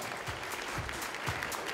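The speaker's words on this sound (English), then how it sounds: "Yes, big round of applause." Audience applause at the Miss Universe Singapore 2014 show, a brief, even patter of many hands clapping in a large venue.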